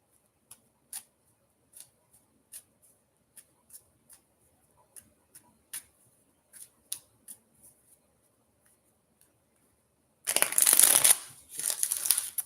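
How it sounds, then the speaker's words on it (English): Tarot cards are handled with scattered light taps and clicks, then a loud, close riffling shuffle bursts out near the end. "Let me just give these cards a good shuffle here."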